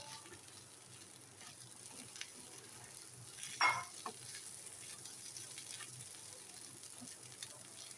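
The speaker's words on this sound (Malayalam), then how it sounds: "ഒന്ന് ഇളക്കുക." Food frying in a pan is gently stirred, a faint, steady sizzle with one brief scrape of the spoon midway.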